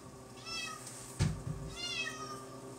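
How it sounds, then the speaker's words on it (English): A house cat meows loudly and close, two drawn-out wavering cries with a thump between them, against quiet kitchen background. "That's my cat going nuts."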